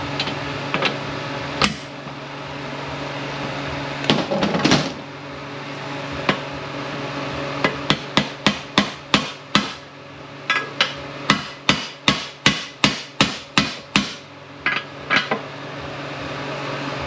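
A hammer taps a bearing into place during a P35A rebuild, with scattered knocks followed by a steady run of about a dozen sharp metallic strikes over a constant hum.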